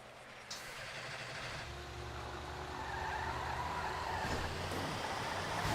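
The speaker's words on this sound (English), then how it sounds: "Now becoming a tow truck." A tow truck engine idles and rumbles in a roleplay driving game, with steady road noise and a sharp hiss of air brakes near the start, the engine building slightly louder toward the end.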